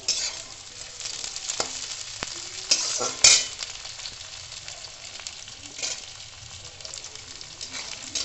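Beans stir-fry with carrots in a hot pan for chow mein, a steady close sizzle broken by scraping stirs and a couple of sharp utensil clacks against the pan.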